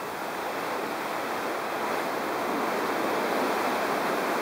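Ocean waves about two meters high on an Antarctic cruise produce a steady, loud, broadband rush of surf and wind, continuous and unbroken, with no voices.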